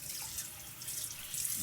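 Cold water runs steadily from a bathroom tap during a safety-razor shave, a soft continuous hiss with no talking.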